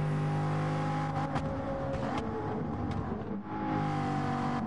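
A race car engine in the video game Gran Turismo 7 drones steadily and loudly throughout, with a brief dip near the end and faint whooshing passes, heard alone without voices.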